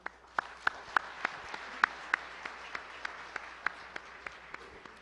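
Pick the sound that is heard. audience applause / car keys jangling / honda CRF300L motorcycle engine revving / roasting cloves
audience applause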